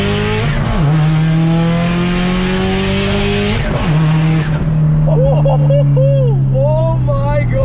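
A big-turbo Subaru STI engine revs hard through the gears on a dyno, a loud rising drone with repeated shift breaks and wastegate chatter, voices calling out over the roar.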